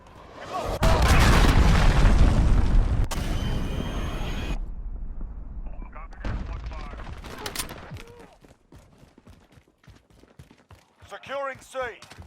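Cruise missile strikes in a Call of Duty multiplayer match, heavy booming explosions rumbling loudly for several seconds, followed by scattered gunfire and voice callouts.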